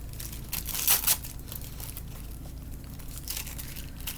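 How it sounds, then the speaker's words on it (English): Blue tissue paper crumpled and pressed with glue onto a journal page: a short burst of close, crisp crinkling near the start, then quieter rustles over a low background hum. "I'm going to dress up the corner here a little bit with a little bit more blue tissue paper."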